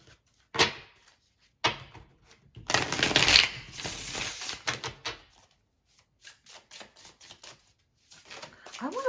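Tarot cards are shuffled by hand in a sequence of crisp riffling and papery slaps, with a longer burst of shuffling in the middle and quieter bursts later. Soft talking can be heard in places.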